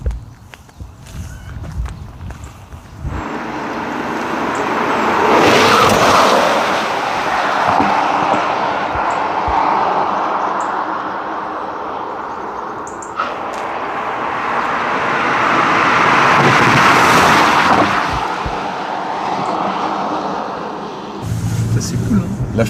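BMW i4 M50 electric car driving past and braking, two broad swelling whooshes of tyre and road noise rising and fading, with a person briefly audible at the start.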